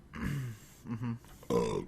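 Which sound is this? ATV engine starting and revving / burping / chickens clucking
burping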